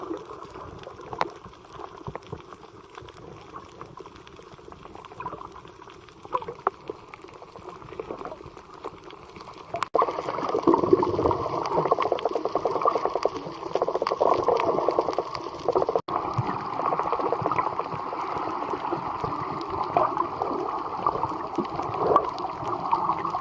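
Ocean surf off Aruba heard underwater while snorkeling, a continuous churning, bubbling rush that swells noticeably louder partway through and stays dense and close.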